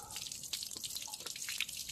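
Water from a hose or tap splashes and drips over a rusty car exhaust as it is rinsed, a close, steady patter broken by spattering bursts, with no talking.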